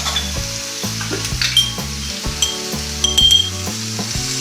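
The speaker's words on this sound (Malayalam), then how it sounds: "വെച്ചിരിക്കുന്ന ചേന അതിലേക്ക് ഇട്ട് കൊടുക്കുന്നു." Cubes of elephant foot yam with turmeric frying in oil in a pan for Kerala chena mezhukkupuratti, a loud continuous close sizzle with bursts of spattering and faint rhythmic stirring underneath, no voices.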